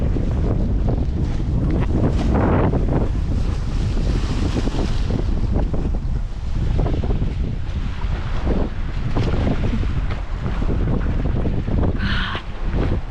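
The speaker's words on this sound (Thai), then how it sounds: "ลมแรง ลมแรง" Strong seaside wind roars across the microphone in continuous heavy gusts, with the rush of surf blended underneath, loud and unbroken for the whole stretch.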